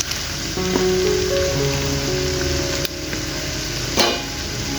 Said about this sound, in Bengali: এগুলো একটু এক মিনিটের মতো নাড়াচাড়া করে ভেজে নেব আদা রসুন ভাজা হয়ে গেছে